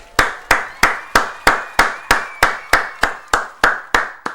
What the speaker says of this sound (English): Clap it up, bro.